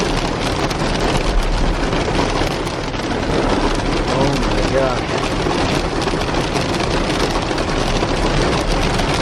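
Hail falls hard and steady at night in Las Vegas, a dense, loud rattling patter on surfaces that fills the whole stretch without pause, with voices faintly audible beneath.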